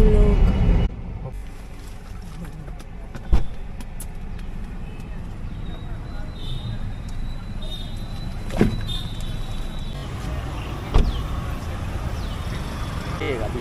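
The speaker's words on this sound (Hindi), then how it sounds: "यहाँ पे हो चुका है ट्रैफिक जाम, जैम में फंस चुके हैं हम लोग।" A Jodhpur street is jammed with traffic: a steady low rumble of idling vehicles, with occasional sharp knocks and a distant horn-like tone, as people talk nearby.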